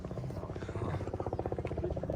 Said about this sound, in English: They got a search helicopter out.